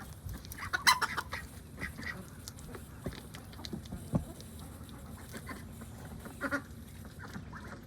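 Ducks at their small outdoor swimming pool give scattered quacks and short calls, with a louder burst early on and quieter ones spread across the rest, close by and with no speech.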